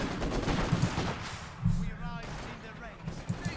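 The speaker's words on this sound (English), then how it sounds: "Maxims are really firing." Maxim machine guns firing in Company of Heroes 2, short muffled bursts of gunfire heard under a dense mix of other battle noise.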